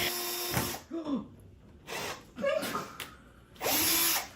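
Power drill boring into a frame, several short whirring bursts separated by pauses, close by, with faint breaths and a little talk between bursts.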